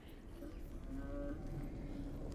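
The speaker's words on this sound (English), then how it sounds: "No, there's definitely a cow." A cow moos once in the video game Hellblade: Senua's Sacrifice, a low drawn-out call heard faint and distant over a quiet ambient background.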